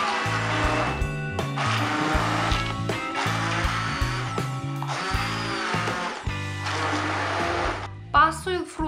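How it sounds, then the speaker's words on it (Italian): An immersion blender whirs in repeated bursts, pureeing strawberries, its motor pitch shifting as it churns, with brief pauses between pulses and a short rattle at the end. "le frantumo con il frullatore ad immersione"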